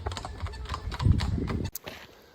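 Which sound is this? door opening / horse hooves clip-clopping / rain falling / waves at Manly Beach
horse hooves clip-clopping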